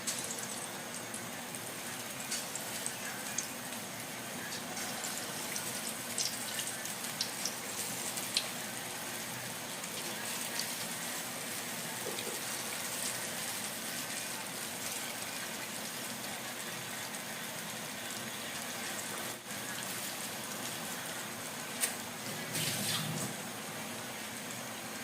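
Batter being dropped into hot oil for frying in a village kitchen, a steady soft sizzle and crackle throughout with occasional louder pops.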